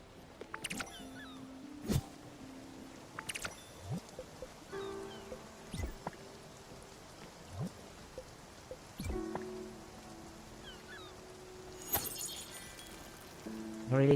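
Rain falling in the video game Spiritfarer, a soft continuous hiss of drops under scattered chimes, clinks and short musical game effects, steady and moderately quiet throughout.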